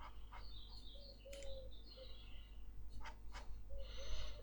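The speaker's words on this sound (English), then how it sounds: "the wonderfully whistling birds outside our" Birds whistle and chirp faintly outside a window, with scattered short calls and brief trills over a low indoor hum.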